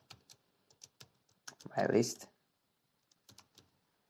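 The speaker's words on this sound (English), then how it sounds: "I will just type in my list" Computer keyboard typing during a Python programming lesson, sparse light key clicks spread across the clip, fairly faint, with a brief burst of speech in the middle.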